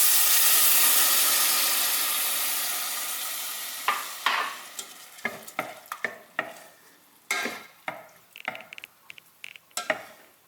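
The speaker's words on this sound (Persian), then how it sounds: "سبزیجات رو میریزین توش" Vegetables hit a hot pan for a vegetable and lentil curry with mango, first a loud broad sizzle that slowly fades, then a run of sharp irregular scrapes and clatters as a utensil stirs them in the pan.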